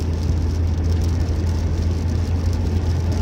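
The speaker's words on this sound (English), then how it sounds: "In terms of road noise, you can hear how it is driving on the freeway" Road noise from a car riding on Sentury UHP tires along a freeway: a steady, loud tire and wind roar with a strong low hum, unbroken and even for the whole stretch, no talking.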